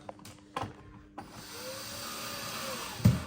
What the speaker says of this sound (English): I find it good practice to just get the screws started into the timber